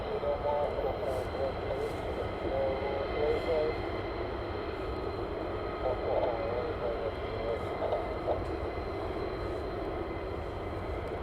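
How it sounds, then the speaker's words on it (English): F-35 fighter jets taxi back to parking at RAF Lakenheath during night flying, giving a steady distant engine roar and whine that runs throughout, with people talking over it. "The F-35s are taxiing back to their parking"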